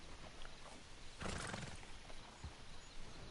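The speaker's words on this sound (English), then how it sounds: "Oh, look at all these horses." A horse in the Red Dead Redemption 2 video game, set among many horses near a stable, gives one loud whinny in the middle over quiet game ambience, with soft hoof sounds around it.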